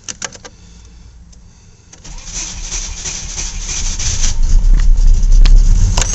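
A Volvo 740 cranking over on a cold start, starter whirring in short bursts before the engine catches and rises into a loud, rough, steadily building idle that swells toward the end.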